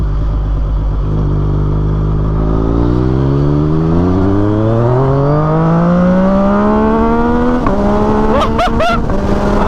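A Yamaha MT-09 SP motorcycle with aftermarket exhaust accelerates steadily through the gears, its loud engine note climbing in pitch and swelling, then dropping briefly at a shift before rising again with sharp pops near the end.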